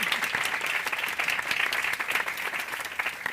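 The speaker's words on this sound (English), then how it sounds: "Please give a very big applause to Frida." An audience gathered at the 2018 Serpentine Pavilion applauds architect Frida Escobedo, a dense, continuous patter of many hands clapping close and steady from start to finish.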